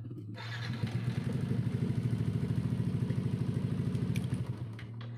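A motorcycle engine running during a test, its fast, even idle pulsing steadily and loudly at close range for several seconds, with a faint rattling clatter over it.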